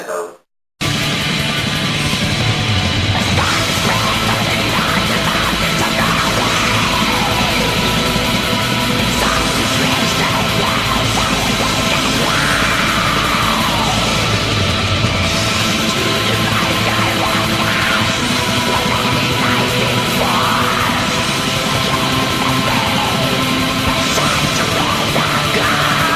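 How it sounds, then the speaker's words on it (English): Harsh, shrieking black metal vocals ride over a dense wall of distorted, fast music, loud and continuous for the whole stretch after a brief quiet start. "let's hear the scream of black metal."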